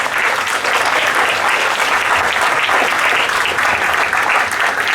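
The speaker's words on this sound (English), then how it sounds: "Let's give them a big round of applause." A school assembly audience bursts into sustained applause, a dense, even clatter of many hands clapping for about five seconds with no talking.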